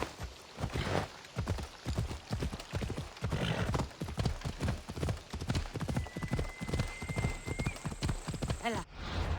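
A horse gallops in the video game Assassin's Creed Odyssey, with rapid, even hoofbeats drumming throughout and a brief whinny late in the run, all fairly quiet.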